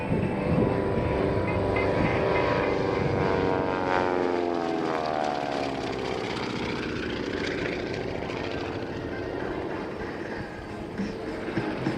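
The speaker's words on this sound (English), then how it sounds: "Powered by two Pratt & Whitney R985 Wasp Junior radial engines, they produce 450 horsepower each" A Beech C-45 twin-engine airplane powered by two Pratt & Whitney R985 Wasp Junior radial engines drones past at an airshow, a steady propeller roar with a sweeping pitch shift as it passes.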